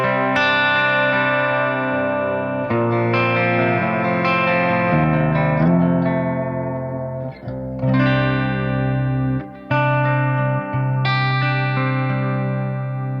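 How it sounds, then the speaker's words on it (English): Mayones electric guitar with pickups split to single coil, clean with reverb, playing a run of sustained chords and single notes, clear and solo with ringing decay. "that's the sound of the guitar split down."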